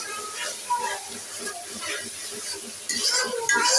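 Spice masala being stirred and fried in a pan, a soft sizzle with scraping stir sounds throughout, growing a little louder near the end, with a faint hint of voices in the background.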